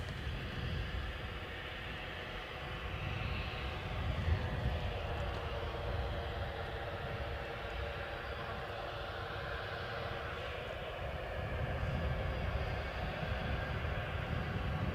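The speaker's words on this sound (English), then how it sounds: "British Airways are going to emerge from behind that bush" A British Airways airliner at Edinburgh Airport gives a continuous broad jet roar, moderately distant and steady for the whole stretch with slight swells.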